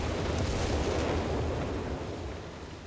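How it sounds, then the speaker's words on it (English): A zeroing artillery barrage strikes during a Company of Heroes 3 four-versus-four match. Heavy, continuous rumbling explosions roll together, then fade gradually toward the end, with no talk over them. "I'm guessing that's the zeroing artillery from Mech, right?"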